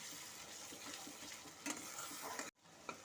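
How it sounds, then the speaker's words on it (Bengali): Rohu fish korma masala with yogurt being sautéed over low heat, a soft steady sizzle with spatula stirring and a few scrapes, a brief gap before it resumes. "এখন সমস্ত কিছুর সাথে ভালো মতো করে আমি কষে নেব"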